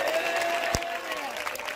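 A church congregation claps loudly in praise, a dense, steady wash of applause filling the short stretch, with one sharp louder clap standing out midway.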